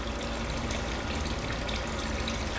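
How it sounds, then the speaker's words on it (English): A small pump pushes water through a tankless water heater during a flush, giving a steady, close rushing and trickling of flowing water with no voices. "And as soon as you plug this pump in, it's gonna start pumping."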